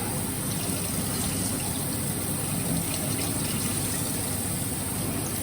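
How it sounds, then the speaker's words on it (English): Cold water runs in a steady, even rush while lentils are washed, unbroken and fairly loud throughout, with no voices. "We are now going to wash the lentils in cold water."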